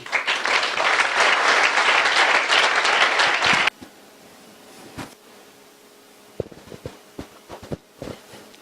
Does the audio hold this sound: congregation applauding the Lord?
yes